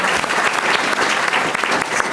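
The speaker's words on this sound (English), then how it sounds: "How about a big round of applause for Will Burns?" A crowd at a public talk applauds for Will Burns, loud, close, dense clapping from many hands filling the whole two seconds without letup.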